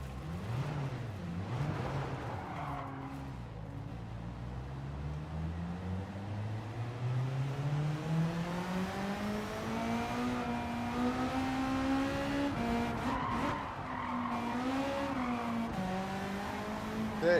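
A race car in Gran Turismo 7 spins out with traction control off, its engine note sweeping and rising steadily while tyres squeal, a continuous close game sound with a faint voice now and then.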